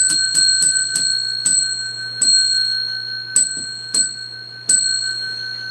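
A small bell rung by hand in a series of bright, ringing strikes, each followed by a sustained shimmering tone, irregularly spaced, loud and close, with no talk.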